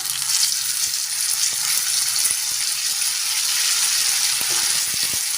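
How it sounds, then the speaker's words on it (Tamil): Onions and tomatoes sautéing in a pan for chicken gravy hiss in a steady, close sizzle, with a few faint scrapes of stirring throughout and no talking. "தக்காளி நல்லா வெந்து சாஃப்ட் ஆகட்டும், அது வரைக்கும் வதக்கி விட்டுக்கோங்க"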